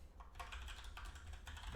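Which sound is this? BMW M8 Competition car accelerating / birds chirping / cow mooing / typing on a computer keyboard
typing on a computer keyboard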